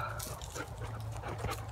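A dog whimpers faintly outdoors in the woods, soft whiny cries and yips over low background noise.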